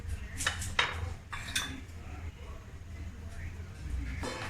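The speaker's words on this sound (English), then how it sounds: "Mix it well. Mix it well till it simmers." A spoon stirs tom yum soup in a metal pot, with several quick scraping clinks in bursts at the start and again near the end over a quiet background.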